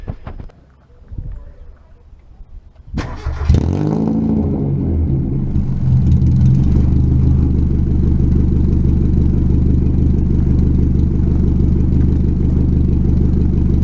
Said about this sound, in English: I did Miata open header revving, but now I've got some pipe on it, so this isn't quite open header, but pretty close. It's straight pipe.